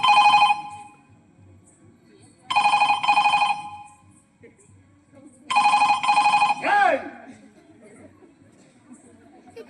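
A telephone bell rings in three loud, closely spaced bursts during a Kannada stage play about a thief, with faint crowd murmur and a brief voice between the rings.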